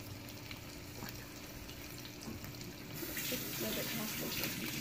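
Water runs from a tap while hands are washed at a sink, a steady hiss and splatter that swells louder partway through. A voice can be heard faintly in the background.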